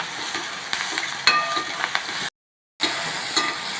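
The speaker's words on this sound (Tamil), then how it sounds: "இப்போ தக்காளி வெங்காயம் எல்லாம் நல்லா வதங்கிருச்சு" Tomatoes and onions sautéing in a pan, a steady close sizzle with a couple of light clinks, cut off by a brief moment of silence before the frying resumes.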